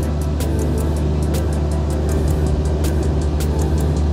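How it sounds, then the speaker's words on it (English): A car drives along with its hood propped open, its engine drone and road noise running steady and loud throughout, with faint ticking clatter on top. "I'm gonna drive with open hood."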